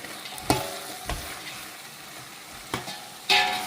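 Chana dal frying in a pan, a soft steady sizzle punctuated by several distinct scraping knocks of a stirring utensil against the pan, close and moderately quiet.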